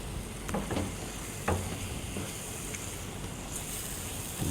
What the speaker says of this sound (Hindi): अब इसको बस इस तरह खुरचते जाएं ताकि मसाला नीचे लगे ना